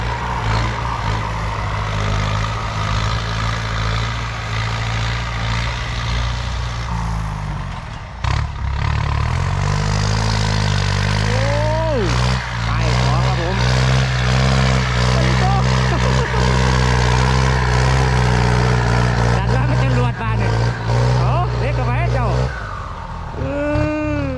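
A Kubota M8808 tractor engine runs close by while clearing fallen trees after a storm, a steady low diesel drone that briefly cuts out, then resumes with revving, and a voice talks over it.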